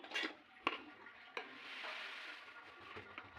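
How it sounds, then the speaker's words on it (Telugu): Dosa batter sizzles softly on a hot pan, a faint steady hiss with a few light clicks of a utensil, close and quiet, with nobody talking. "దోశలు వేస్తున్నాను, చూపిస్తాను."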